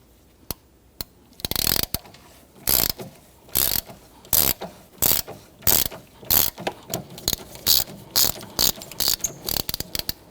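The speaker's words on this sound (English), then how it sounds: "you can use your ratchet like I'm doing" A hand ratchet loosens a bolt on a 2011-2014 Kia Sorento engine, with rapid, loud, close pawl clicks in repeated bursts and a steady back-and-forth rhythm throughout.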